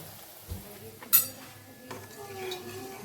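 A spoon scrapes and clinks against a cooking pan while salt is stirred in, a few sharp metallic knocks and soft scraping, brief and close, with faint background sounds.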